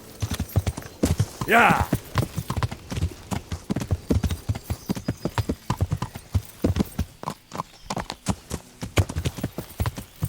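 A horse's hooves clip-clop steadily and close by while ridden over rocky ground in Kingdom Come: Deliverance. A horse whinnies briefly, and someone speaks once.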